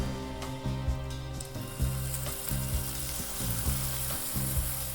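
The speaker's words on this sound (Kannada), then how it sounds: "ನಮ್ಮ ಸ್ಪೆಷಲ್ ಚಟ್ನಿಗೆ ಈ ಸ್ಪೆಷಲ್ ಒಗ್ಗರಣೆನ ಹಾಕ್ಬಿಡೋಣ." A hot tempering of hing and curry leaves hisses over chutney, a steady sizzle with faint clinks and stirring taps throughout, no voices.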